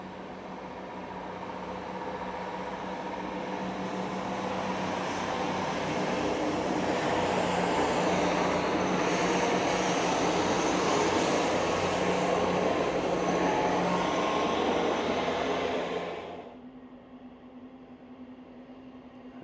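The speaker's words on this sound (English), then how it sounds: "there's a train on the opposite side there going out" A train rumbles past on the line between Walsden and Smithy Bridge with rising, rushing roar and rattling, holding steady for many seconds before cutting off abruptly to a quiet hum.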